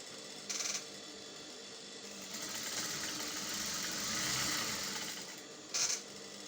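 Sewing machine stitching the seam of a shirt dress, a steady soft whirring run of several seconds at moderate distance, with brief clicks at the start and end.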